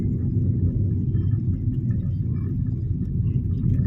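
Car interior on EDSA in the rain: a steady low engine and road rumble drones throughout, close and constant, with faint patter on top and no speech.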